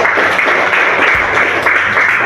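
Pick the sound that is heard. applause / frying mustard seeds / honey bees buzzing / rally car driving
applause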